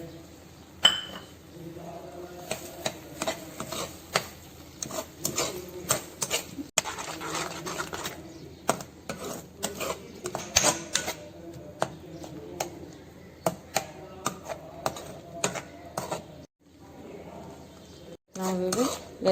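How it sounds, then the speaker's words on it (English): Sugar being added to watermelon halwa and stirred in a pan, with scattered metallic clinks and scrapes of a utensil against the cookware, fairly close, with quiet gaps and a soft background murmur. "Now we will add the sugar in it."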